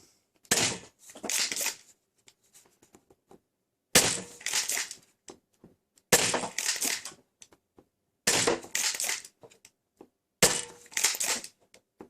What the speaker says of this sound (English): let's shoot the ghost dart through it